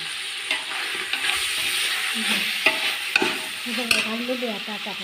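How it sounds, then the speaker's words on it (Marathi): Ginger garlic paste fries in a pan with steady sizzling while a utensil stirs and scrapes through it in irregular strokes, close and fairly loud. "आलं लसणाची पेस्ट मस्तपैकी भाजली पाहिजे"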